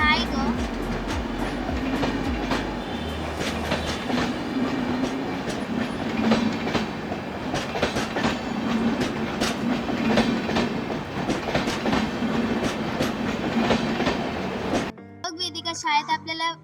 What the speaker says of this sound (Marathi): रेल्वे आली बघ रेल्वे किती मोठी रेल्वे.